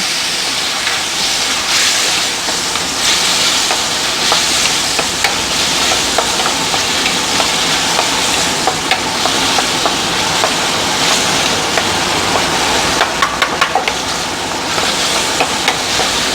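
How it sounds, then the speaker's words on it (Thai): Fermented soybean paste stir-fried in a wok for rad na: a loud, continuous hiss of sizzling oil with scattered scraping and tapping of a utensil against the pan, close and steady, with no talk. "แล้วเราก็จะใส่เต้าเจี้ยว คือราดหน้าต้องใส่เต้าเจี้ยวไม่ใส่เต้าเจี้ยวไม่ได้ แล้วเราก็จะผัดมัน ให้มันหอม"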